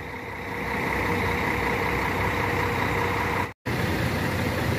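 A Buburé company coach idles and manoeuvres at a bus station on the Transamazônica route, giving a steady loud diesel engine rumble with a brief cutout near the end.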